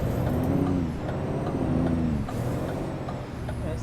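Heavy truck engine in American Truck Simulator, loud and steady with a throaty rumbling drone, dipping briefly midway before the low growl resumes, with no voices.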